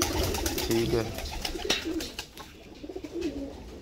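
Pigeon cooing softly in a loft while being lifted out after a bath, a few low coos mixed with handling noise and someone talking close by.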